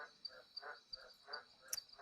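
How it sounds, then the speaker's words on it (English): Frogs croak in a steady, pulsing rhythm of about six calls over two seconds, fairly faint, over a constant high insect-like hum, with no voices. "frogs have decided to take over again."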